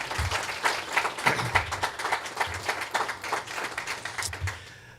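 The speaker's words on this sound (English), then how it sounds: "please, I'm going to ask everyone to give our panel applause" A live audience at a chamber of commerce panel discussion applauds the panel, a steady wash of clapping hands with uneven peaks, fairly close and sustained, tapering off toward the end.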